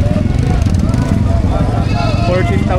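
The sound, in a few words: goats bleating at livestock market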